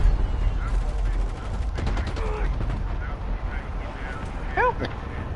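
Rapid gunfire bursts crackle in Call of Duty Warzone, repeated automatic shots in clusters over a rumbling background, with a voice talking over the action.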